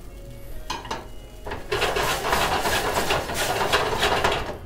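After a few metallic clanks, white wine poured into a hot pan for a steak tartare pan sauce bursts into a loud, steady close sizzle that continues as it reduces.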